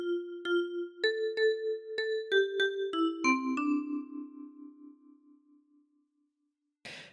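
A 10-key kalimba plucks a phrase of Oh Susanna, about a dozen clear metallic tines ringing in an even rhythm and fading into silence, followed by a brief rustle at the end.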